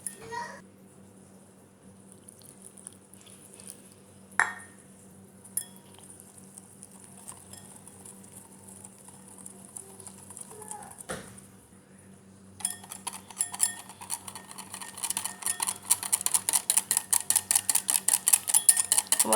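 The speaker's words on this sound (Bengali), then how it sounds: "এখন আমি সব ভালো করে নেড়ে নিব" Malpua batter with milk stirred in a bowl: soft, faint scraping at first, then a steady rapid run of louder clinking and slapping strokes toward the end.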